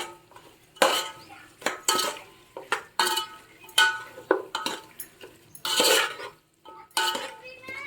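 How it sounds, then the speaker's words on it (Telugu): Salt is mixed into mutton pulao in a pot with a metal spoon, producing irregular bursts of scraping and clanking with short pauses between, close and fairly loud. "ఇది కూడా అంతా బాగా మిక్స్ చేసేద్దాం"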